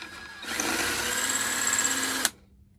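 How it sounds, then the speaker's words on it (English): Power drill boring through a seat spring mount on a Kubota ZD21 mower: a steady whirring run of about two seconds close by, ending in a sharp stop. "I'm gonna drill it out and clamp it."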